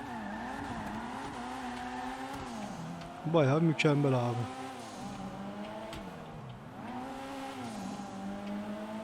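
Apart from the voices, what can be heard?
car driving in video game GTA 5 Online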